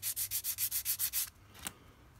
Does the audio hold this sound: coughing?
no